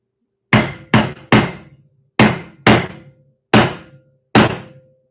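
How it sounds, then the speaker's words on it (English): Seven heavy hammer blows strike a hard, hollow coconut, coming in uneven clusters with short pauses between, each a sharp thunk that rings briefly. "Maybe I should hammer it."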